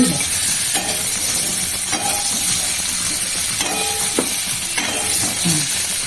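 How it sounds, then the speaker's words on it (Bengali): Spices including Kashmiri chilli frying in a pan, a close, constant sizzle with clinks and scrapes as they are stirred and turned. "ভাজে দিয়ে একটু ভেজে নিই নাড়াচাড়া করে"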